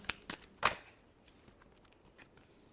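Tarot cards riffled and shuffled by hand, a few quick crisp bursts up front, the loudest near the middle, then soft faint rustling alone.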